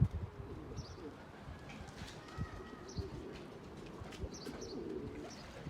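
Pigeons cooing softly in the background of an outdoor spot, several brief calls scattered over a low, steady ambient rumble, with no talk.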